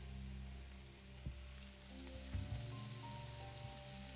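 Beef pieces sizzle as they are added to a frying pan, a steady hiss of frying with a couple of brief louder bursts as fresh meat hits the hot surface, with no talking.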